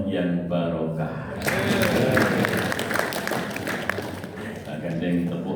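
Audience applause at an Islamic religious gathering (pengajian) in a mosque in Gamping, a continuous crowd clapping swell that starts under a voice and a few musical tones, moderately loud and steady.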